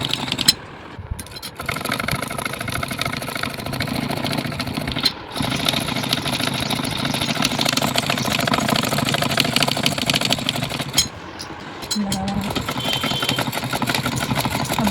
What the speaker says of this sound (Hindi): अब आप इसको पक्की सिलाई कर दीजिए।